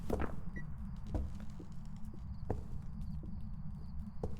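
Footsteps in the video game Phasmophobia: soft, irregular clicking steps in a quiet farmhouse setting, faint over a low rumbling background hum.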